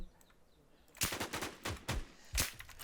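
Rapid bursts of video-game gunfire in an online shooter match, several sharp loud shots clustered after a quiet start, with short gaps between volleys.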